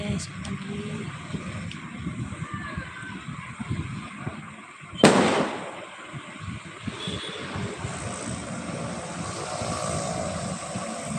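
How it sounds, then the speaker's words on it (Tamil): A single sharp firecracker burst during Deepavali stands out against a faint background hum, with people talking quietly throughout. "எல்லாரும் பட்டாசெல்லாம் வெடிச்சாச்சா"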